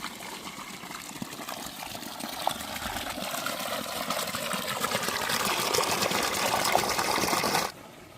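Water flows steadily while irrigating vegetable garden beds, a continuous close rushing and gushing that swells slightly louder before cutting off abruptly near the end.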